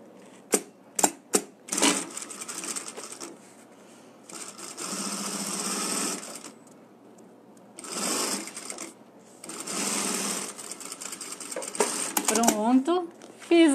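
A sewing machine runs in several bursts of stitching as it finishes the seam on a handmade wallet. Someone talks between and over the bursts.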